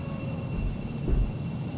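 An Embraer airliner climbing after takeoff in X-Plane 12 gives a steady low engine rumble and broad roar with a faint high whine, swelling slightly midway, no voices.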